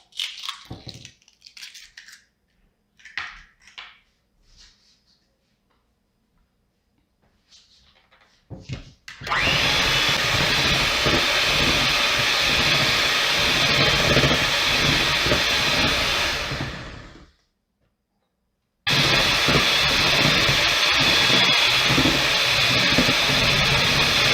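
Electric mixer beating eggs into coffee cake batter, a steady loud whirring that runs for several seconds, cuts out briefly, then starts again, after a few quieter clinks and bumps.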